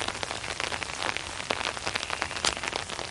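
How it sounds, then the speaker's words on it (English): Steady rain patters and splashes on a hard surface in a garden, dense and close, with no other sounds standing out. "You can probably hear the rain and a train in the background."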